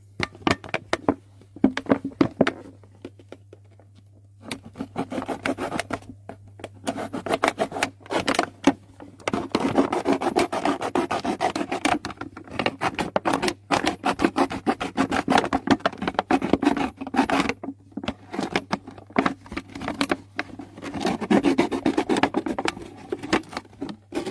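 A plastic PET bottle has its neck cut off to make a funnel for draining oil during a car oil filter change, with loud, irregular scraping and cutting strokes over a steady low hum.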